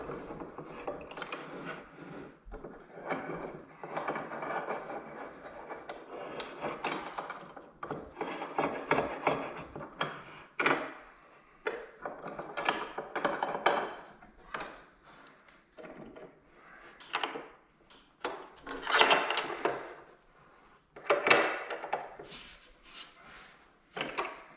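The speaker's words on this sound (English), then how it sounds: "And then I will screw the clamps together and draw the two pieces together." Clamps are screwed tight to draw two biscuit-joined wooden boards together, giving repeated close ratcheting, creaking and knocking sounds in uneven bursts with brief pauses.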